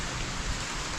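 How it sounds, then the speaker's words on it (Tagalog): Heavy rain falls outdoors around a large balete tree, a continuous, even wash of noise filling the scene without any talking. "ang lakas na talaga ng ulan"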